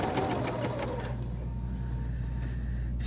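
Bernina sewing machine running close up, a fast rhythmic mechanical stitching chatter that slows and quiets after about a second, leaving a low steady hum.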